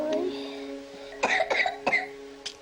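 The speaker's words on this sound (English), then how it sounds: "do big cough, please" A child with cystic fibrosis gives several short, harsh coughs in a quick cluster, then one more, close to the microphone after a brief spoken phrase.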